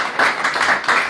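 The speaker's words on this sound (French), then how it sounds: "Applaudissez pour le Seigneur Jésus-Christ." A church congregation applauding during a Sunday service, with loud close rhythmic clapping in steady pulses over a short burst.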